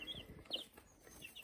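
Little chicks in a brooder chirp in quick, faint high peeps with soft rustling underneath, several short calls spread over a moment, quiet and close.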